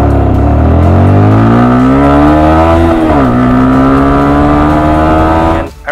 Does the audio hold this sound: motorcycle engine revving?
yes